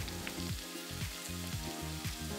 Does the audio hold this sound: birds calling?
no